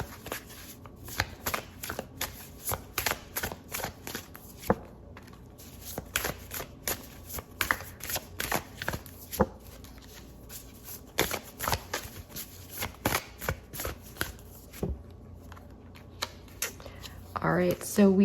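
Oracle cards from a tarot-style deck are shuffled by hand at length. The riffles and flicks come in quick, irregular bursts with short pauses, close to the mic, and no voice talks over them.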